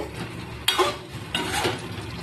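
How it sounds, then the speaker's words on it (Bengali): Egg and new small potato curry being stirred and sautéed in a pan, with two bursts of scraping and sizzling at close range over a low, steady frying hiss, and no voices. "ভালো করে নেড়ে চেড়ে কষিয়ে নিচ্ছি"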